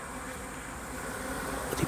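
Native Korean honeybees buzz at a hive where drones are numerous, a steady close-up hum that holds throughout without speech.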